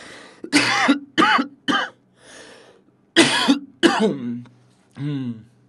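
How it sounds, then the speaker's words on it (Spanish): Several sharp, harsh coughs in quick bursts, close and loud, followed by a softer throat-clearing sound at the end. "Medio tosecita."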